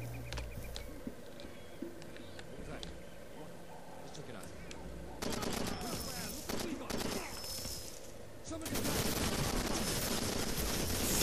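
Automatic and burst gunfire from the video game Far Cry 2 during a forest firefight, loud rapid shots growing denser toward the end, mixed with game ambience.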